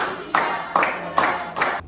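Four sharp hand claps at an even, deliberate pace in a classroom, each ringing briefly in a roomy space.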